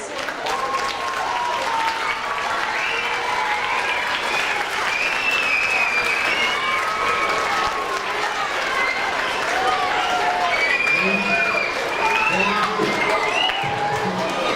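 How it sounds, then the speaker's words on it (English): A standing audience at a panel event breaks into sustained applause, dense clapping mixed with cheering voices and whoops, steady and loud throughout. "If you could please stand and give them a round of applause."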